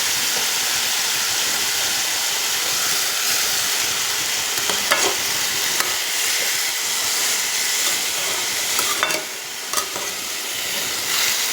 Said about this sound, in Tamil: இப்போ நம்ம எல்லாமே ஒன்றா சேர்த்து அப்படியே நல்லா கிளறி விடணும்.